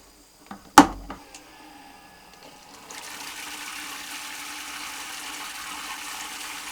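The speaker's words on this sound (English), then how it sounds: "Pump is obviously going in the water" A small pump lowered into a partly filled bucket draws water for an off-grid cabin shower: a few sharp clunks as it goes in, then a steady, close, even hiss of running water alone to the end.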